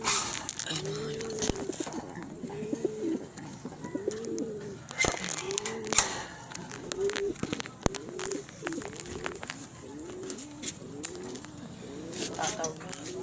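Pigeons coo again and again in a steady rolling rhythm at close range, with scattered knocks and rustles around them.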